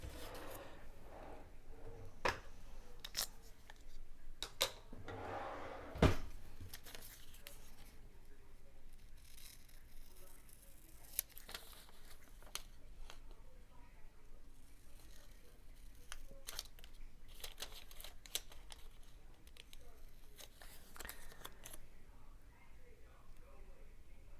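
Scattered sharp snips and clicks, like scissors cutting paper, spaced irregularly over a quiet background with faint muffled voices.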